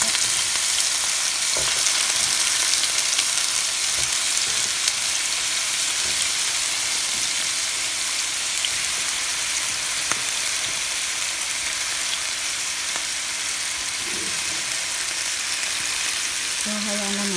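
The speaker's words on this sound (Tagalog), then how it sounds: "lulutuin muna natin itong patatas natin" Potatoes sizzle steadily in a pan throughout, a dense continuous frying hiss with faint stirring clatter, close and even in level, with no talk over it.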